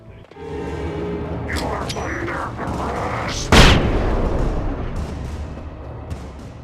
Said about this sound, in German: I think I heard some gunshots